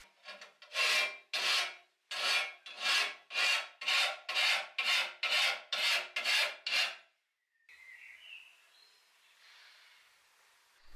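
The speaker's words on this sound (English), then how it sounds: "therefore I had to file out a part there" A hand file rasps back and forth on a metal part of a homemade sheet-metal bending brake, about eleven steady, evenly spaced strokes, close and clear, followed by quiet scraping.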